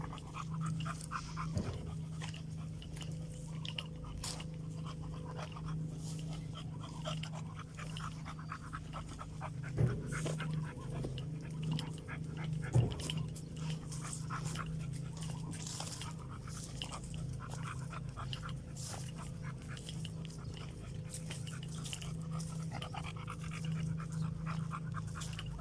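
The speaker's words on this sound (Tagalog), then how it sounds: "Nahihingal ka na." A dog pants steadily and close up after a short walk, with faint chewing or crunching sounds and low background hum; no one speaks.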